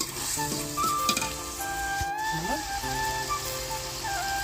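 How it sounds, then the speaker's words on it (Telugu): Chicken curry sizzling and frying in a pan while it is stirred, a steady close hiss broken by scraping stirs and a few light clinks, with no talking. "చికెన్ అయితే వేసుకున్నాము కొంచెం కలబెట్టేస్తాం"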